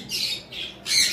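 Three short, harsh squawks from lovebirds, close and shrill, separated by brief pauses.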